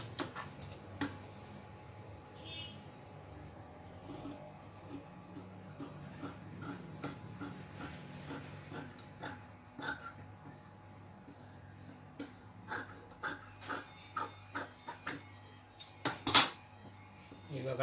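Tailoring scissors cut blouse neck fabric in a series of close, crisp snips, sparse at first, then a quick regular run of cuts toward the end, over faint room noise.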